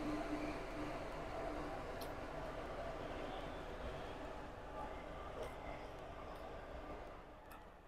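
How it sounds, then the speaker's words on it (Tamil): A train rumbles steadily past nearby in Coimbatore, India, a continuous heavy clatter of rail noise with faint metallic ticks, while a voice talks over it. "ட்ரெயின் பின்னாடி போகுது"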